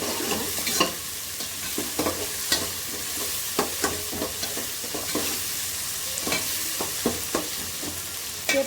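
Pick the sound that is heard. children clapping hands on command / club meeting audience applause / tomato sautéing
tomato sautéing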